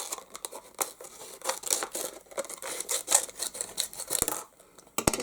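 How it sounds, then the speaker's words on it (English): Scissors snip and trim a cup used for acrylic paint pouring, making a run of close, crisp cuts with crinkling and rustling of the material as the blades work, fairly quiet with no one talking. "I'm just going to take some scissors and trim into this"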